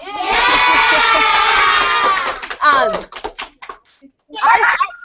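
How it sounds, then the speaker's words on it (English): A school audience of children erupts in loud, sustained cheering and shouting, then breaks into scattered yells and voices before a final burst of noise. "We should hear some applause."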